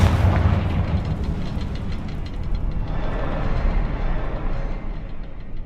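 Confringo blast spell in Hogwarts Legacy, a rumbling explosion that opens loud and rolls on as a dense, sustained low roar and crackle, no talk.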